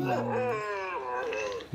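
A human voice imitates a dog barking in a sing-song way while reciting a Hindi children's poem, with drawn-out tonal calls close to the microphone.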